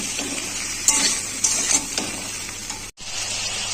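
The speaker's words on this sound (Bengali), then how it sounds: "নুন হলুদ দিয়ে সবজিটাকে ভেজে নেব" Ridge gourd and potato fry with salt and turmeric in a pan, a steady close sizzle broken by a few louder scraping stirs and a brief gap near the end.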